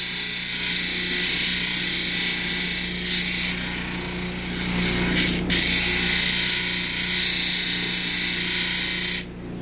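High-grit gem cutting wheels grind stones in a continuous loud, raspy whine that holds close and steady, with a few brief dips before it drops away at the very end.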